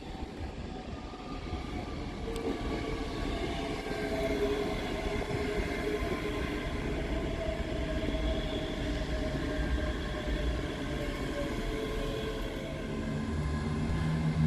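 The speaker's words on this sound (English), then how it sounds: "Arriving in the opposite direction is 385101 with the 1904 Scotrail service from Glasgow Queen Street to Edinburgh" A ScotRail class 385 electric train, unit 385101, pulls into Edinburgh Haymarket station, giving a steady, moderately loud rolling hum and wheel rumble with a rising and falling electric whine across the whole passage, without voices.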